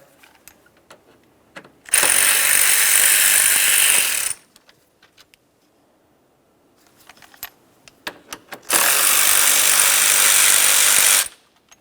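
Two 10mm mounting bolts are backed out of the AC condenser cooling fan on a 2012-2015 Honda Civic 1.8L, in two loud, close bursts of rapid mechanical whirring a few seconds each, with light clicks and taps in the quiet between.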